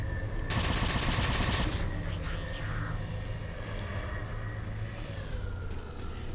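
Rapid automatic gunfire from a weapon in Halo 4, a loud dense burst in the first couple of seconds over a steady layer of game ambience, with low rumble and scattered distant shots continuing afterward.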